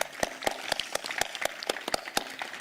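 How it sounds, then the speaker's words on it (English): A graduation audience claps, with sparse, distinct hand claps at a steady pace, fairly faint and distant. "we should give them a round of applause too"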